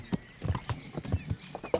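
A horse's hooves clip-clop in the Kingdom Come Deliverance video game, a steady near rhythm of quick hoof falls over faint background game sound.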